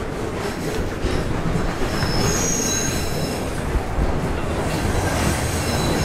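A train rumbling loudly through an underground station, wheels squealing and rails clattering beneath a constant roar, with no talking.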